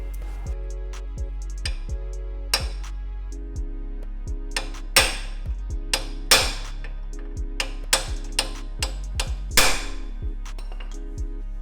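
Hammer strikes driving a kingpin bearing race into a Suzuki Jimny, a series of sharp metallic taps and clinks at irregular spacing, close up over a low steady hum.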